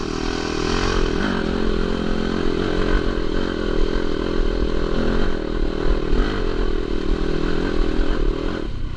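Yamaha YZ250FX dirt bike engine revving steadily as it climbs a steep, rocky uphill of dug-out boulders, loud and close throughout with rattling and scraping of rocks under the tires.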